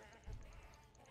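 A goat in the video game Path of Exile gives a single short, faint bleat over steady game background sound.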